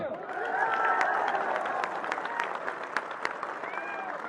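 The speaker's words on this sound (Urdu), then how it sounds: "عثمان کے لیے تھالیاں" A crowd claps and cheers at a PTI political rally in Dera Ismail Khan, Pakistan. The dense, sustained applause holds steady with shouting voices woven through it.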